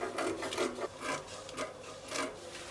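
Fabric being cut for a shirt bubu dress with a drawstring, soft scissor snips and rustling cloth in a quick uneven rhythm, faint and close with no voices.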